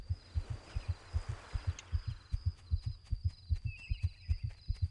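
A heartbeat in the video game Black and White pulses steadily in paired low thumps, quiet and regular throughout, with faint bird-like chirps and ambient hiss behind it.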